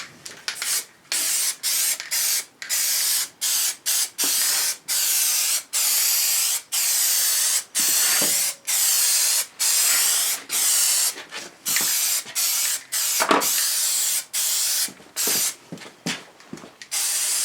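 A spray can lays down a Plastidip rubber coating in a long series of loud hissing bursts, each a second or so, separated by brief clicks and pauses, with no talking.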